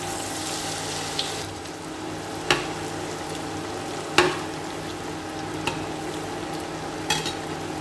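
Falafel frying in hot oil makes a steady, close sizzling hiss, broken by a few sharp clicks and taps from a utensil against the pan.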